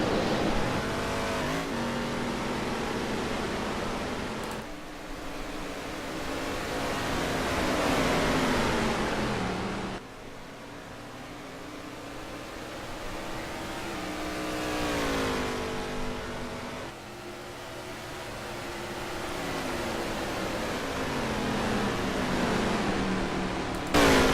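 Dirt race cars engines roar on a short track in a racing video game, a dense, continuous pack of revving motors rising and falling, loud and sustained throughout.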